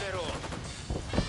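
Gunfire in the tactical shooter Ghost Recon Wildlands, short loud shots and impacts packed into a brief moment, mixed with voices talking over the action.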